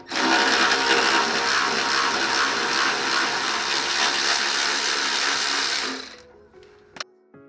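Power tool whirring steadily and loudly while loosening the muffler hanger bolts on a Subaru STI during a Remark resonated catback exhaust install, then cutting off sharply with a few faint clinks afterward.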